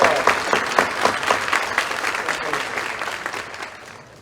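Audience applause at a high school athletic awards ceremony, a sustained burst of clapping from a crowd in a hall that fades out over a few seconds.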